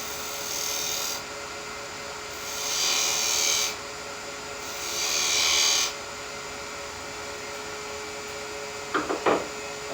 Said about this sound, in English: We've sanded the piece, probably on the lathe